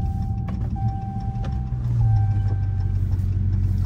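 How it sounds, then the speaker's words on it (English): A Chrysler Hellcat with its catalytic converters still fitted, exhaust burbling at a low steady idle that swells slightly partway through, heard from inside the car with faint ticking clicks over the top. "I'm about to pull up to the spot so I can get y'all a before clip of the exhaust"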